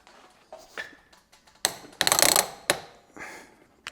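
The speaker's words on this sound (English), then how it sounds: "All right, now we need to torque these bolts." Ratchet wrench clicking in short bursts while tightening bolts on a BMW E46 330i, close and crisp with brief pauses between strokes.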